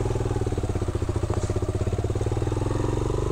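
Motorcycle engine chugging at low speed along a rough, stony mountain track on the trek toward the Rupal face of Nanga Parbat base camp, a steady close throb with faint clatter throughout.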